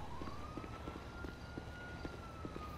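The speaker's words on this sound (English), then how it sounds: "Is there a police car chasing you?" A police car siren wails in a video game, a faint, steady rising and falling tone heard at a distance beneath a dense background of game noise.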